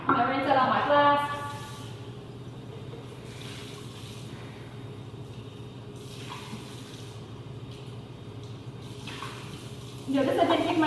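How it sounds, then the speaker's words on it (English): Water rinses out laboratory flasks at a sink, a steady, moderate wash of running water continuing throughout, with brief voices or clatter at the start and end. "I'm going to rinse out all my flasks."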